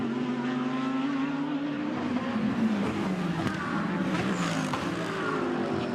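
A GT race car at Imola, Fanatec GT World Challenge Europe free practice, descends toward Acqua Minerale. Its engine holds a loud, continuous note, the pitch sliding down and climbing again through gear changes, with no voices.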